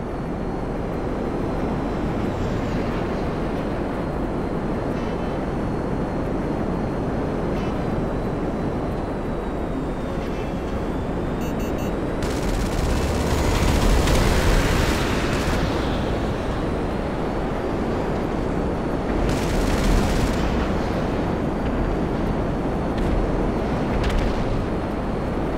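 Jets duel in the video game GTA Online, a Raiju jet and a B-11 with cannon fire and rockets, heard as a loud, dense roar of engines with heavy bursts and blasts partway through, no voices present.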